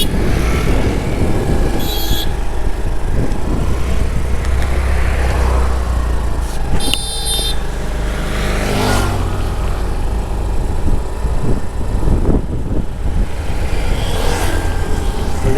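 Motorbike ride through busy Bengaluru road traffic: a steady, loud rumble of engine and wind noise runs throughout, with a couple of brief, sharp horn-like tones cutting in and no voices.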